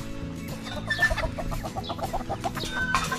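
Chickens and several roosters clucking and chattering nearby, birds overlapping in busy, uneven bursts with a brief higher squawk.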